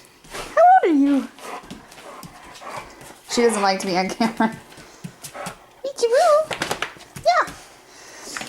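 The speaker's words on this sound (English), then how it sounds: "This is my husband's dog." An old dog, a female of about fifteen or sixteen, gives several high, wavering whimpers in short bursts, close by, interleaved with someone talking.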